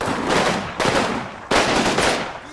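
Continuous automatic gunfire from units holding a firing line in a war video game, German infantry behind a stone wall, loud and dense with two sharp surges of volley fire.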